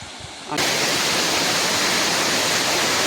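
Bari waterfall, reached after a 13 km walk through forest, roars as a steady, loud broadband rush of falling water that swells in abruptly and then holds constant close by.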